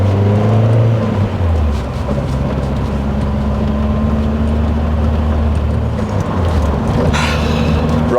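Lotus Esprit GT3 sports car cruising on a road, a loud continuous engine drone with a gear change early on and steady road and wind noise from inside the cabin.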